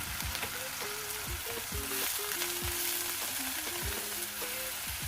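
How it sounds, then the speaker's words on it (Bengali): Onion paste sizzles and spatters in a pan while being stirred, with water added to stop the spices burning, for a Bengali carp curry with mustard and poppy seed. A steady close frying hiss plays over a faint melodic tune. "পেঁয়াজ বাটাটা একটু নেড়ে চেড়ে ওর মধ্যে একটু জল দিতে হবে যাতে অন্য মশলা না পুড়ে যায়"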